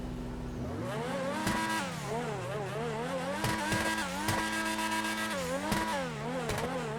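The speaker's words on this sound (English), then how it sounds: "I just want to showcase the engine sound on the Tyrus" A Tyrus sports car engine in GTA 5 revs up and down repeatedly, its pitch sweeping high and falling back, with sharp gear-shift pops, loud and close.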